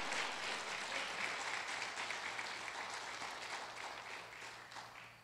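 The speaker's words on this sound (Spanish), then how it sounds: "Échele el aplauso fuerte" Church congregation applauding loudly after a sermon, a dense, steady wash of many hands clapping that holds for about five seconds and fades slightly at the end, with no talk over it.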